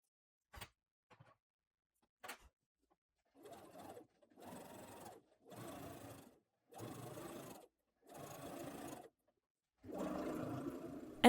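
A sewing machine stitches a fabric hem on a spaghetti-strap frock in short separate bursts, about six runs of steady mechanical whirring with pauses between, close and clear after a few faint clicks.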